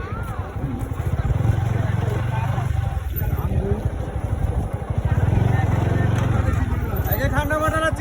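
A motorcycle rumbles past close by on a village road near Savar, its engine drone rising and falling beneath ongoing conversation and background chatter.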